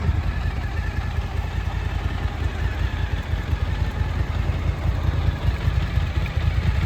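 A 2015 Suzuki DL 1000 V-Strom idles with a steady, close, rumbling exhaust note that holds evenly throughout, with no talking over it.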